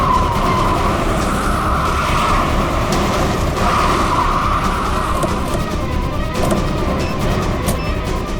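In a scene from the Indian crime drama CID, a car skids to a stop with a loud, sustained tyre screech and engine roar that rises and fades over several seconds before a rougher scraping finish.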